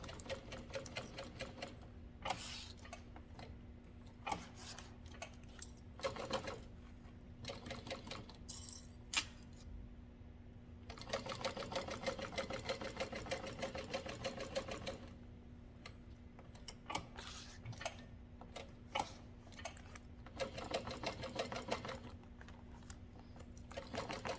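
A sewing machine stitching the seam of a wristlet clutch, rapid steady needle chatter with a low motor hum, running in bursts with short pauses and restarts, close and moderately quiet, no talking.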